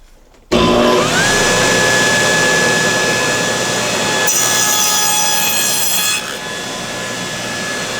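Table saw fitted with a dado stack spins up and bites into wood to cut a rabbet, a loud sustained whine with a brighter, rougher stretch midway as the blade engages, then easing back.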